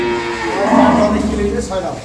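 A dairy cow lows at a Bengali farm selling high-quality milking cows and calves. One long, deep, loud moo carries over steady farmyard background noise.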